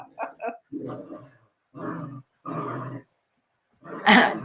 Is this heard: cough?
no